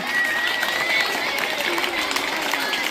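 Students being applauded at a school event, a dense wash of clapping from a crowd, steady and fairly close throughout, with voices mixed in.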